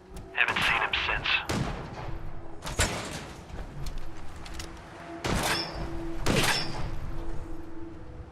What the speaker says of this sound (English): It sounded like that one guy was shooting.